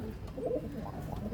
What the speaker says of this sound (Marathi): आपण सगळे एकदम टॉप क्वालिटीचे कबूतर आणलेले आहेत.